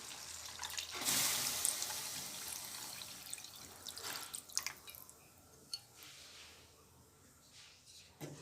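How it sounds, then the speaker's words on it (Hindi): Three cups of water poured into a pan of fish curry with fried fish and oil, a burst of rushing splashing near the start fading into bubbling, dripping and small clinks. "अब हम 3 कप इसमें पानी ऐड करेंगे।"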